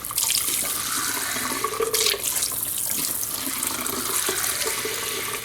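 A fountain pen's lever draws in and pushes out water during cleaning, giving a continuous wet hiss and gurgle like a running tap, steady and fairly close for the whole stretch.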